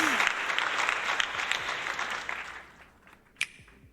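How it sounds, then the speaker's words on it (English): Studio audience applause during a late-night interview show, a dense burst of clapping that fades out after a few seconds, ending with a single sharp clap. "clappers going around"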